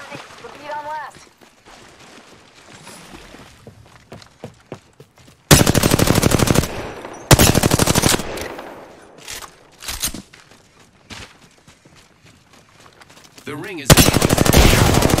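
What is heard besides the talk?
gunfire from hostiles in a video game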